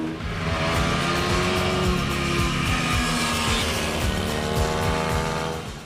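A SWM 125 SM single-cylinder four-stroke motorcycle with a six-speed gearbox accelerates steadily, its engine note climbing loud and close with a few gear-change dips and a continuous rushing of wind.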